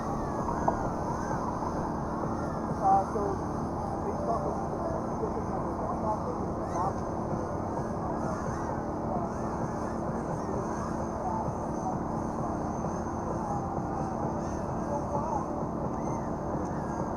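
Racing quadcopter drones whine continuously at a live drone race event, a dense, sustained buzzing mixed with crowd murmur and distant voices, holding steady throughout without clear breaks.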